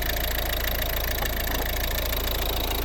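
A 2012 Volvo V50 1.6 D2 diesel engine idles steadily nearby, with a continuous low rumble and faint rhythmic knocking, no voices.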